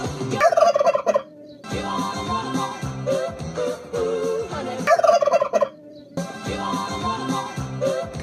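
Turkeys gobble repeatedly in loud, rapid bursts over energetic recorded music, with the calls recurring in clusters throughout.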